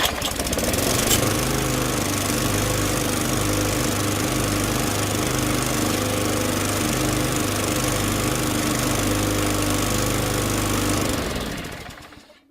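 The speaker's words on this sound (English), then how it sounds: "Do you think it's safe for your neighbor's son Billy to cut the grass in flip-flops?" A lawn mower cuts grass with a steady, loud engine drone that runs near and unbroken for about eleven seconds, then cuts off abruptly.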